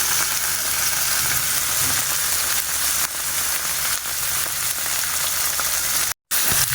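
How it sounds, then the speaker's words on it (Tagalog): Pork liver fries in butter with a steady, loud sizzle that crackles continuously throughout, with no talking. "Ang pagpiprito ng pork liver, kailangan saglit lang kasi baka kumunat."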